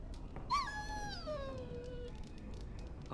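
A dog in Dragon Age: Origins lets out a single drawn-out whining howl that slides downward in pitch, clear and fairly close against a low game background, with no speech over it.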